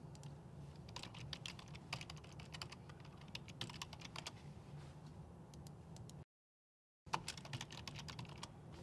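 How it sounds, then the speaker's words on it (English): Computer keyboard typing, steady bursts of quick light key clicks close to the microphone over a faint hum, with a short silent gap before a final flurry of keystrokes. "I'm going to type in the name of whomever I want to grant access to, or maybe a group name."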